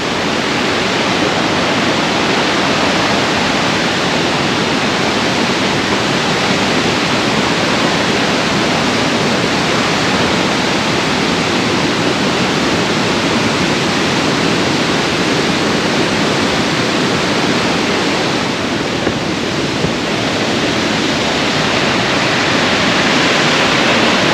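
Nawadaha Falls rapids along the West River Trail, a loud, continuous broadband rush of churning water that holds steady throughout with no other sounds.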